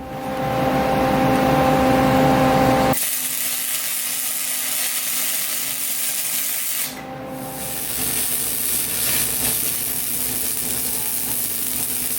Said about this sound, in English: go ahead and try to weld it up